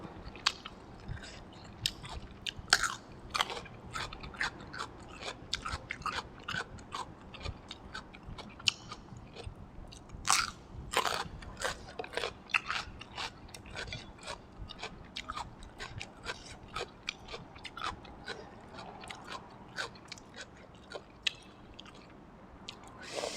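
Close, wet chewing and biting of fried meatballs with dipping sauce and cucumber, a run of crunchy, squishy bites at an irregular rhythm with no talking.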